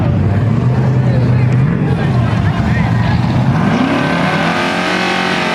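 Drag racing cars roar down the strip at Richmond Dragway during an LSX and G-Body shootout, a loud sustained engine drone rising in pitch as they speed past, with commentary over the top.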